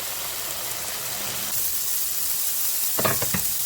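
Pancetta sizzles in a hot pan as it is added, a steady loud frying hiss that swells midway, with a brief clatter of stirring near the end.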